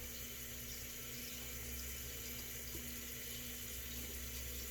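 Cold water runs steadily from a bathroom sink tap in the southern summer heat, a continuous close splashing hiss with no pauses.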